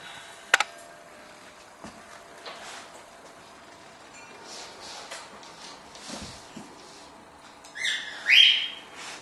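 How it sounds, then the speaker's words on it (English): Faint bird chirps in a quiet indoor room, with a brief sharp tick early on and a louder burst of tweeting near the end. "Inside we have several birds."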